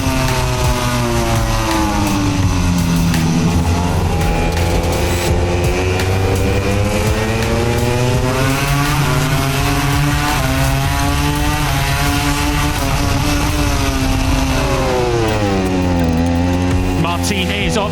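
MotoGP motorcycles roar off the line at the start of a sprint race in Japan, a dense, loud pack of revving engines with rising and falling pitch sweeps throughout, a commentator's voice faintly underneath.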